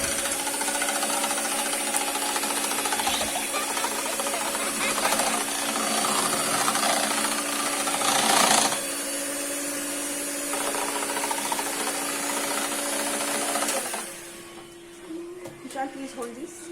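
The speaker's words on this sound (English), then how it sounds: "So we will mix the eggs with the mixer." An electric mixer buzzes and whirs steadily while beating eggs in a bowl for home baking with kids, running loud for about fourteen seconds before stopping, with voices talking over it.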